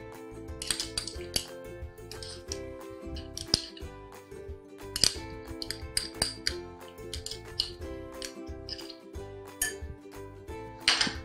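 A spoon repeatedly clinks and scrapes against plates while sweetened condensed milk is spread over stuffed turnip dishes, giving light, irregular metallic taps close by, with no voices.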